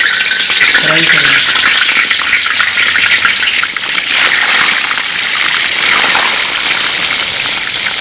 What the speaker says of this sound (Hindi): ये घी हमारा गर्म हो गया है। अब हम इसमें ये बीफ की बोटियाँ डालेंगे,